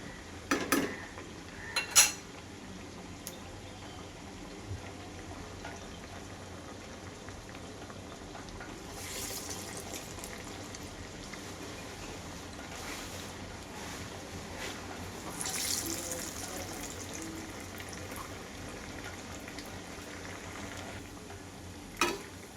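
Dal vadas deep-frying in hot oil give a steady, even sizzle and bubbling hiss, with occasional sharp clinks of utensils near the start and end and no talking.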